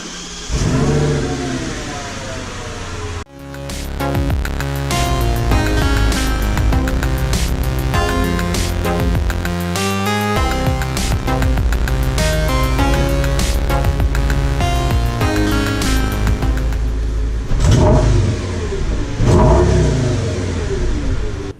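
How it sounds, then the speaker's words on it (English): An Audi S8 engine runs loud and close, revving and idling as the car pulls out and back in, with a brief pause and shift in tone partway through. "I'm actually going to pull the car out and back in to get the suspension to settle a little bit"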